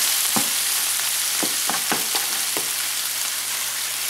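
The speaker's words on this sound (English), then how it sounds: "And now we're going to add the tomatoes." Tomatoes hit a hot frying pan of herbs and meat for channa gosht, sizzling steadily and loudly, with several sharp clinks of a utensil stirring against the pan in the first half.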